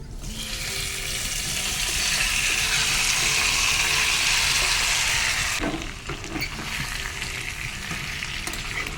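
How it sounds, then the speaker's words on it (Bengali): Potatoes fry in a pan with a loud, close, continuous sizzle. Near the end the hiss drops and becomes rougher as the pan is shifted, and no one speaks. "আমি আলুগুলো আগে ভেজে নিই"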